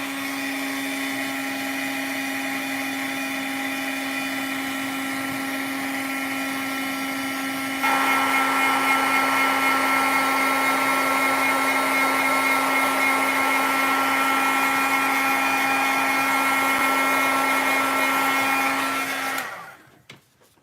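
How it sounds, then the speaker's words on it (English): A heat tool drying blue paint for a craft piece gives a steady, loud motorized whine with a constant hum, stepping up in intensity partway through, then cutting off sharply near the end; no one speaks. "I am going to have to bring my heat tool in and dry that off"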